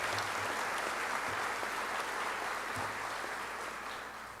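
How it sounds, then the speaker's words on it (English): A crowd at a school baccalaureate ceremony gives a graduating class a long, dense round of applause that fills the room steadily and tapers slightly toward the end, with a few faint voices underneath. "Let's give this class an incredible round of applause for"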